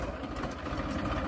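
An old tractor engine idles outdoors on a farm, a low, steady rumbling chug that continues evenly throughout without talk.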